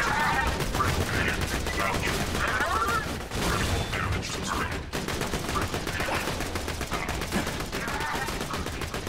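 Rapid, dense gunfire from a spider tank in the shooter game Borderlands 2, loud and continuous through the whole stretch with bursts of crackling shots and a short dip partway in, no voices over it.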